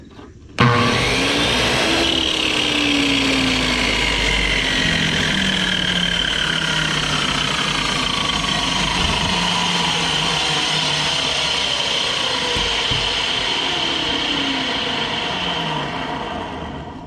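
A trash-picked miter saw's motor switches on with an abrupt start and runs as a loud, steady whine close by, the pitch sliding as it spins up, holding for about sixteen seconds before easing slightly.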